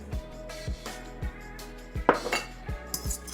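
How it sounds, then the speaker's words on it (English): An egg is beaten in a bowl, a utensil clinking against the dish in quick, irregular taps at close range, with no talk. "I am gonna take 1 egg and I am going to just beat this in a bowl"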